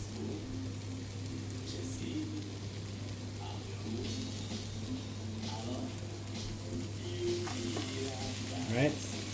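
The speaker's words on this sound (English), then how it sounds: "So what I'm doing right now with the spoon is I'm trying to break up the bunches of enoki that are in here." Enoki mushrooms fry in a pan for a chicken stir-fry as a spoon breaks up the clumps, a continuous close sizzle with repeated scraping and tapping strokes over a low steady hum.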